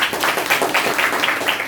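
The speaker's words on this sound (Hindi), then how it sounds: "Very good, Tali बजाइए।" Students in a live Hindi grammar class clap together in a short burst of applause, dense and fairly close, filling the room for under two seconds.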